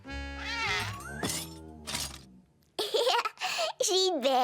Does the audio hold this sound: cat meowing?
yes